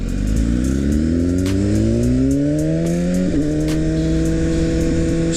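A 2016 BMW S1000RR sport bike under way, its engine pitch climbing steadily through the gears with a brief shift-like break, loud and continuous with steady road and wind roar.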